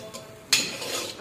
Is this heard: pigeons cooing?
no